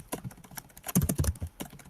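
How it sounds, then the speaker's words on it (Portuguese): Fingers tapping on a computer keyboard in a quick irregular burst of clicks, close and fairly quiet, with no talking. "eu posso digitar aqui"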